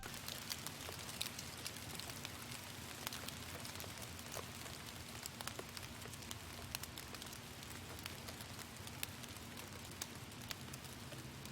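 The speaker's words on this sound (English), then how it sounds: "I got this little rain sample from Cymatics, their live recordings kit" A live-recorded rain sample from a Cymatics kit, a faint, steady patter with scattered crackling drops over a soft continuous hiss.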